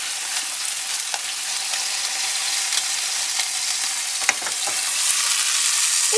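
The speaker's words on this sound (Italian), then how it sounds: "saltati in padella con il burro e la salvia" Potato and sausage ravioli sautéing in a pan with butter and sage, a steady, close, hissing sizzle with faint crackles, holding constant throughout with no talking.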